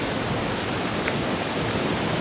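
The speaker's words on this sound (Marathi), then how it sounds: "तुम्ही इथे बघताय एकच नंबर वॉटरफॉल आहे गाईज" Waterfall beside the trail to the Kondana river near the Kondane caves in Karjat, a steady dense roar of falling water that fills the whole clip evenly, close and loud with no talk over it.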